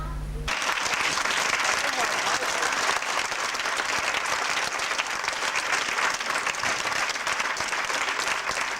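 A crowd at a film festival screening breaks into loud, sustained applause that starts abruptly and holds steady throughout, with dense overlapping claps from many people.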